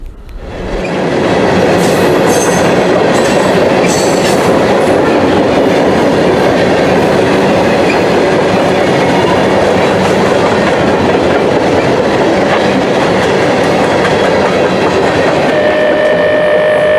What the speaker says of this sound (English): This train right now is currently empty, heading to Ridgewood to pick up more loads to take back to Rockport.